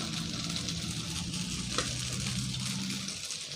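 Beaten egg hitting hot oil in a pan for fried rice, a loud continuous sizzle with a brief sharper crackle midway, close and alone without talk.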